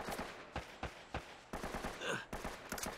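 Sharp rifle shots crack in quick uneven succession during an Uncharted firefight, an AK among the guns, with a rolling burst of fire near the end.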